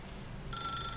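A telephone in The Stanley Parable video game begins ringing halfway through, a bright electronic ring starting abruptly over a low steady background hum.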